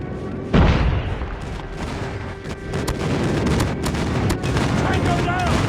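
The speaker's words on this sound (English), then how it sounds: "Friendly airstrike incoming." A friendly airstrike slams down in a video game team deathmatch, a sharp loud boom followed by rumbling blasts and gunfire that continue densely under occasional voice callouts.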